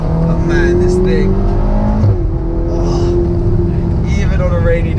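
A Ferrari GTC4 Lusso driven on a wet, rainy road gives a loud engine note that swells and revs in pitch over a constant road and wind roar, with someone talking over it.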